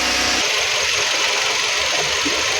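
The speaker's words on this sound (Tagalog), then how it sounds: "napakatining pa ng andar ng sasakyan niya" A 2013 Hyundai Elantra, eleven years old and well kept, idles steadily with a smooth, quiet low engine hum running alone throughout, with no talk.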